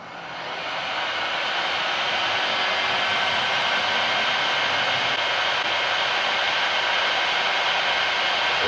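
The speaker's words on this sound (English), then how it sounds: "We're going to set the heat gun once again, and we will start heating this thing up." A heat gun blows hot air onto a GM intake air temperature sensor, ramping up within the first second into a loud, steady, broadband rushing roar like a hair dryer that holds unchanged, close by, with no talking.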